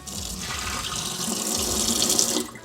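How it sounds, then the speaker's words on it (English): Running tap water splashes steadily into the dirty water tank of a eufy WetVac W31 cordless wet-dry vacuum as it is rinsed at a sink, a continuous close gushing hiss with no talk. "Once you guys pour the liquid, you guys can rinse it"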